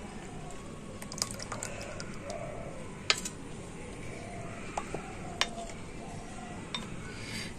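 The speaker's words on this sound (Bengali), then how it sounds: "মিক্সি জারটা একটু ধুয়ে একটুখানি অল্প করে জল দিয়ে দিচ্ছি।" A mixer jar being rinsed and a little water poured in, heard as light splashes, drips and occasional sharp clinks of the jar and utensils against a quiet kitchen background, with no talk.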